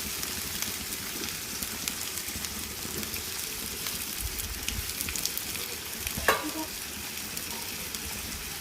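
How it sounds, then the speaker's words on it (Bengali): Tomatoes fry in a pan until charred for a mashed tomato bharta, giving a steady, moderately loud sizzle with light stirring scrapes and one brief sharper clatter partway through. "পোড়া পোড়া করে ভাজবো তাহলে ভর্তাটা মজা হয় সবগুলো টমেটো দিয়ে দিব"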